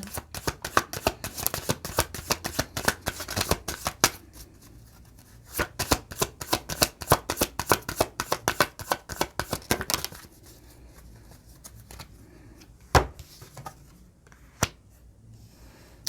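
A deck of tarot cards is shuffled in quick bursts of crisp riffling flutters, followed by a pause, a few sharp taps, and card slaps, close and clear with no talking.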